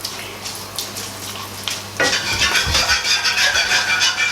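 A roux white sauce is stirred in a pan, giving a soft scraping and bubbling texture that turns louder and busier partway through, with steady close-up kitchen noise and no talking.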